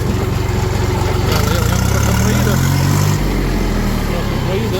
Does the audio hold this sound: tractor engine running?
yes